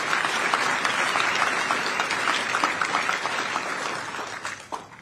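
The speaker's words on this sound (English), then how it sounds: "just one more round of applause and thanking everyone who put this together" A crowd applauds at a U.S. Army Medical Center of Excellence headquarters company change-of-command ceremony, sustained loud, dense clapping from many people that holds steady and then begins thinning toward the end.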